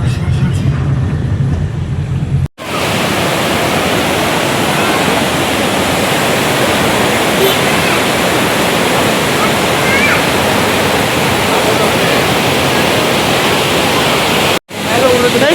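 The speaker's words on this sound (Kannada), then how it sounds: "ಇದು ಯಾವುದೋ ಲಾಕುಮ್ ಫಾಲ್ಸ್ ಅಂತೆ, ಅದು ನೋಡಕ್ ಬಂದಿದ್ದೀವಿ." Lakkam Falls in Munnar roars as a steady, loud broadband rush of falling water that fills the scene from about 2.5 seconds onward, after a brief opening stretch with quieter sound, and it cuts off briefly near the end.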